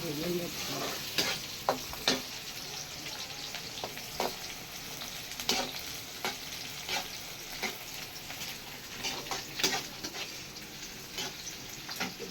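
Onions fry in a pan for a village-style Tamil fish kootu, with a continuous soft sizzle and repeated scraping stirs at a fairly even pace, close and unaccompanied by talk.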